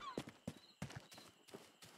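Horse hooves clip-clop in the video game Rustler, a quick uneven run of close, clear hoof strikes with no talking.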